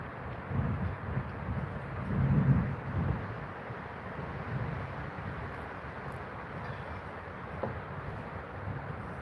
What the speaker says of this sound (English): that wind is just going for it, man